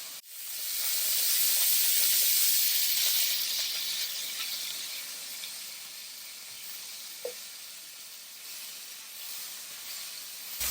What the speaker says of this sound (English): We're going to let our sausage kind of brown up.